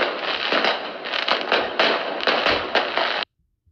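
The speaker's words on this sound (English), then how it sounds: "Rosie was just pushed into those fireworks." Fourth of July fireworks crackle and pop in a dense, continuous barrage of bursts, loud and close, then cut off abruptly into near silence.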